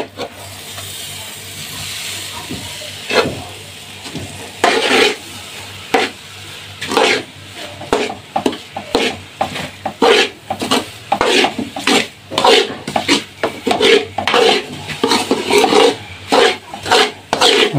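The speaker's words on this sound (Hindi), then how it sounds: "अब हम इसमें मिक्स करेंगे सूजी जो आपके सामने हमने भून ली" Roasted semolina is stirred into a barfi mixture in a pan over a flame, heard as repeated close scraping and rubbing strokes of a spoon against the pan in a quickening rhythm.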